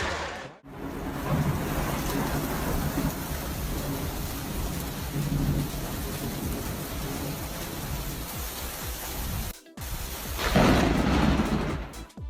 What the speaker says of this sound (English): Sleeping through a thunderstorm is tough. Loud booms keep pulling you back from dreamland.